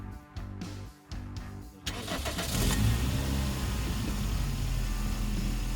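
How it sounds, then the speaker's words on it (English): Large ATV quad engine being cranked over a few times, then catching and settling into a steady, rumbling idle, close by and continuous. "Let's get the engine started."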